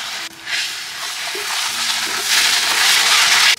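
Sauce poured into chili paste frying in a hot pan for nasi goreng, a loud, broad sizzle that swells and stays close and continuous, with a brief dip and scrape at the start.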